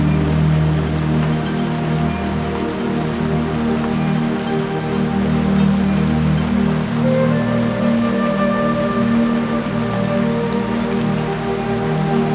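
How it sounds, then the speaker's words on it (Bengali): Steady rain falls on a stormy coast, a dense continuous patter on surfaces with a low rumbling hum underneath, unchanging throughout and with no voices. "আকাশে কখনো ঘন কালো মেঘ করে বৃষ্টি"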